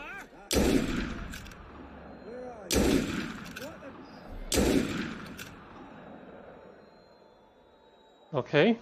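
Video game gunfire in Assassin's Creed Unity: three loud, booming shots spaced a couple of seconds apart, each with a ringing tail, then a short burst near the end, with a player speaking briefly.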